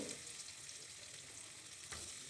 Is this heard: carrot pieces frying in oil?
yes